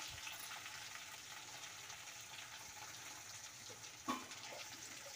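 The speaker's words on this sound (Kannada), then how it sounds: "ಎಲ್ಲ ಒಗ್ಗರಣೆಯಲ್ಲಿ ಚೆನ್ನಾಗಿ ಫ್ರೈ ಮಾಡ್ಕೊಬೇಕು." Steady, soft crackling sizzle of cashews frying in tempering oil, with a brief louder clatter near the end; no voices.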